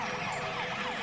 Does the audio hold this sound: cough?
no